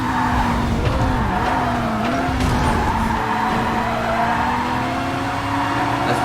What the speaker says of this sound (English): We lost control of the car.